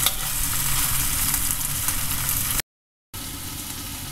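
Cabbage and vegetables in curry are stirred in a pan, a close, steady sizzle with stirring noise that cuts out briefly into silence, then resumes.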